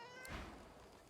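A single short, faint meow from a cat in Divinity: Original Sin II, with a soft thud and quiet room tone around it.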